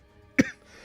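A single sharp cough from a person who is sick, close and fairly loud, followed by a faint breathy tail and quiet room tone.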